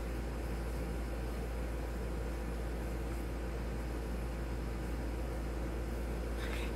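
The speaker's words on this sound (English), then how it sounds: "And I need my air conditioner on, so please excuse that noise." A room air conditioner runs with a steady, even hiss and low hum that holds unchanged throughout, with no voices over it.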